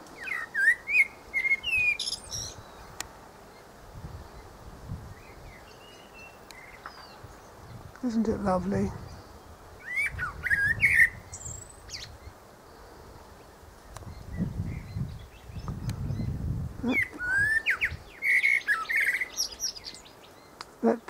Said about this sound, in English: There's a blackbird singing in the privet.